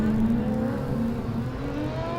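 A Formula Student race car on an autocross run at FSG 2012 drones steadily at mid distance, its engine note holding a tight, slowly rising pitch with a faint whine above it.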